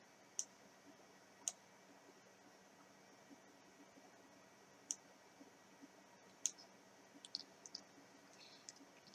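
A computer mouse clicked to open a web browser, giving faint, isolated sharp clicks spaced seconds apart over a quiet hiss, with a quick cluster of clicks near the end.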